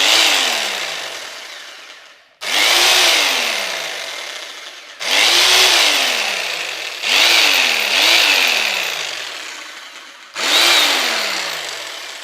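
A powerful 1900-watt power tool with a brushed motor, weighing 6.5 kg, is switched on and off five times, each start a loud whining rev-up that slowly winds down, with no talk.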